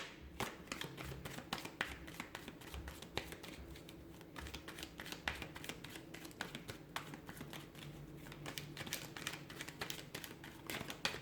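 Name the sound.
shuffling cards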